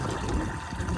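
Water rushes steadily through a koi tank pressure filter running in filter mode, a dense continuous gush and churn that stays loud and close for the whole moment, with no voices.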